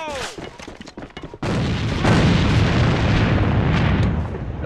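In a shooter video game, a thrown grenade detonates with a sudden loud blast, followed by a sustained roaring rumble of debris and reverberation; sharper crackling shots come just before the explosion.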